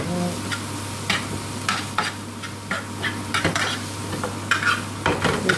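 Potatoes being stirred in a pan with curry powder and haldi for Indian restaurant-style Bombay aloo, spoon scrapes and clacks repeating every second or so over a light, steady sizzle, close and moderately loud.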